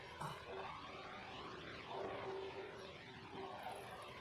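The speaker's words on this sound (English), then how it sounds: "What you are hearing is the sound of Exile's engines that was recorded by the Disith." Recorded engine sound of the anime airship Exile: a faint, steady, droning hum with a slow, rhythmic pulsing, distant and uninterrupted.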